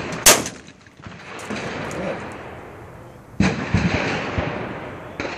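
Shotgun fired at clay pigeons outdoors: two loud, sharp blasts about three seconds apart, each trailing off in a rolling echo with faint background noise between.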